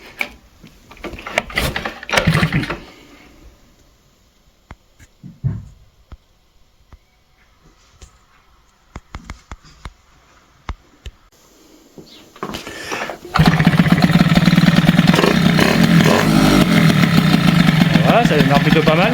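A Peugeot 103 SPX moped is cranked through several sputtering, uneven attempts before its small two-stroke engine catches, then settles into a loud, steady idle close by. Voices can be heard talking during the early starting attempts.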